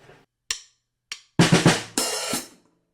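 A short drum fill on a drum kit: two sharp isolated hits, then a quick triple burst of drum strokes and a crashing cymbal ringing out, played alone.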